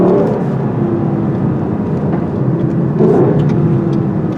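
Inside a 2019 Lexus LC500, the V8 in Sport mode drones loud and steady, a dense engine roar mixed with road noise that swells slightly near the end, with no talk over it.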